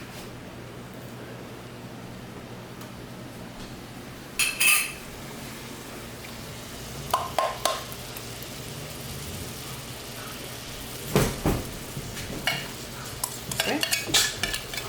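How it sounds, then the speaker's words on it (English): A spoon scrapes and stirs tomato paste around a hot pan for vegan black bean chili, giving a few soft sizzling, clattering bursts over a low background hum; one brief spoken word. "you're gonna stir this around for like a minute or so"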